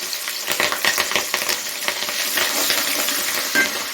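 Ginger and green chilies frying in a pan with oil. A steady close sizzle runs throughout, with occasional light clinks and stirring scrapes and no talking.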